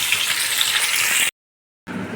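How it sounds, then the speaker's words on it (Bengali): Pointed gourd (potol) frying in hot oil in a pan, a loud close sizzle that cuts out briefly to silence and then resumes, with no talking. "সেই জন্য আমি পটলগুলো দুভাগে সুন্দর করে ভেজে নেব"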